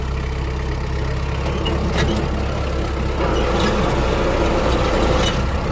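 A Kubota X20 mini tractor with a half cab runs steadily close by, its diesel engine giving a continuous low rumble through a quick 90-degree turn, with no talk over it.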